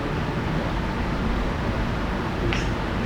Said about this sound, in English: We're just taking white noise and we're modulating the volume level at random intervals.